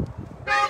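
A car horn gives a short honk at a drive-in Christmas caroling church service, coming in near the end after a low murmur of outdoor background noise.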